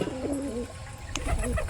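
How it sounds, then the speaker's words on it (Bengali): Two male Kaldom pigeons cooing close by, a short burst of low throaty rolling coos with a brief click, heard alone. "দুটোই নর, হেভি সুন্দর ডাকছে"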